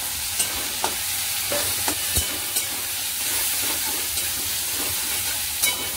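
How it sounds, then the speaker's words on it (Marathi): Soaked cashews are stirred into softened onion-tomato masala in a pan, with a constant sizzle under sharp spatula scrapes and clicks. The scrapes come close and evenly spaced, and no voices are heard. "आणि चांगलं हलवून घ्यायचं, 2-3 मिनिटं याला हलवत राहायचं।"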